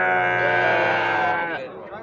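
Goats and young kids bleat at a Sunday livestock fair in Vila Jerimum, Taquaritinga do Norte, Pernambuco, with a loud, sustained, wavering nearby call that trails off over about two seconds.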